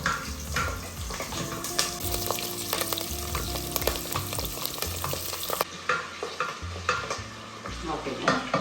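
Bay leaf, cinnamon, cloves and green chillies sizzle in hot ghee, a busy frying hiss broken by frequent stirring scrapes and clanks of a utensil against the pan, close and fairly loud.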